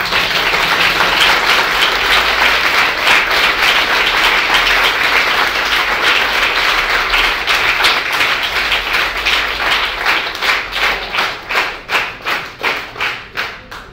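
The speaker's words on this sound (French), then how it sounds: "Est-ce que vos timides applaudissements valent approbation?" Audience applause at a French-language plenary session on final resolutions, a dense sustained roar of many clapping hands that thins toward the end into slower, distinct individual claps, loud and alone.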